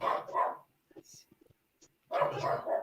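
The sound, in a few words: dog barking in the background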